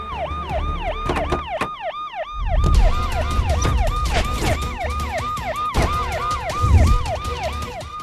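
An ambulance siren sweeps up and down in a steady repeating wail, loud and nearby, over road traffic noise, with sharp horn-like bursts and a deeper rumble joining partway through.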